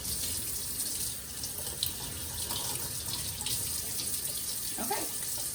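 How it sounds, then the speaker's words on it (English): Cold water runs steadily from a kitchen tap over a batch of homemade butter, a continuous close splashing hiss with no voices. "just to run it under cold water."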